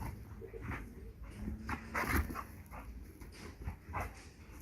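A dog whines and whimpers in short, uneven bursts nearby during obedience training, with some rustling movement around it.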